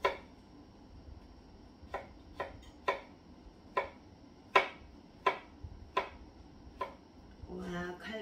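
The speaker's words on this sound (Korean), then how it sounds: "와, 칼 도맛 소리 들리죠?" A kitchen knife slices a cucumber thinly on a cutting board, giving about a dozen sharp, separate chops spaced roughly half a second apart. The sound is close and fairly quiet, with a brief rustle at the end.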